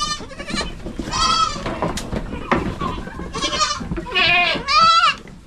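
Several goats bleat in a run of loud, quavering calls, one after another, with faint background voices and farmyard noise.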